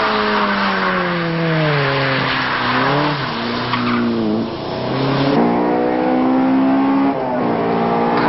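Spoon-tuned Honda Civic Type R EK9 on the wet Tsukuba circuit, its front-wheel-drive engine revving loudly through rising and falling gear changes, heard close and steady from onboard.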